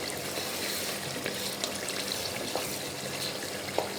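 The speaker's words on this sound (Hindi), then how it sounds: "थोड़ा सा हम इसमें पानी भी ऐड करेंगे," Water pours and trickles steadily into a pot of chandi korma, a continuous splashing wash with a few small clinks, close by and fairly loud.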